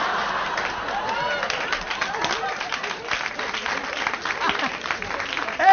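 An audience at a stand-up comedy show claps steadily, a dense, sustained wash of applause with some crowd chatter mixed in, holding at an even level until a voice cuts in at the very end.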